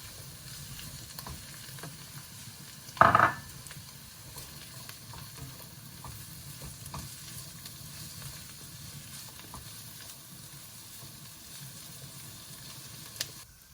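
White parts of chopped green onion sizzle and fry in a hot pan for pizza and patties, a steady quiet frying hiss with one brief louder burst of stirring, and no talk.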